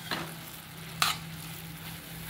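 Flour being sautéed with chopped coriander in a pan over low heat, with soft, faint sizzling and a couple of brief scraping stirs.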